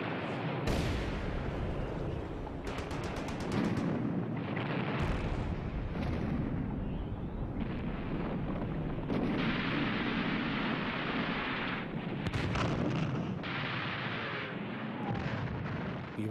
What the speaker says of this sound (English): We were under shell fire for 8 hours.